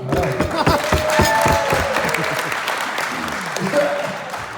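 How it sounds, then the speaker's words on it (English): Wedding guests applaud during a best man speech, with a burst of clapping and a little cheering that tapers off while voices speak over it. "Round of applause, anybody?"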